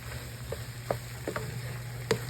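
Potatoes and egg sizzle steadily in a frying pan while a utensil stirs them, making a few soft scraping clicks over a constant hiss.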